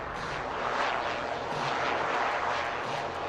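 Military jet roaring past at an Indian Air Force air show as its aerial display ends, a loud continuous broadband rush that swells and holds steady throughout.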